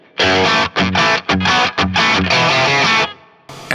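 A Strat electric guitar through an Axe-Fx III Plexi amp model with the drive off, playing a short, bright, punchy phrase of clipped notes and brief pauses before a final struck chord.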